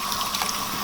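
Cool tap water runs steadily over a slab of smoked bacon to rinse off smoke residue, a brief, close, loud rush of splashing flow with no talk.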